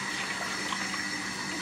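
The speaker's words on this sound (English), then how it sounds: "rinse this out like 10 times with water" Tap water runs steadily into a film developing tank being rinsed out, a continuous broadband hiss and splash with no pauses and no talking.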